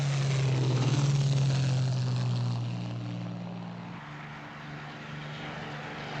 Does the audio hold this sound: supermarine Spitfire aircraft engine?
yes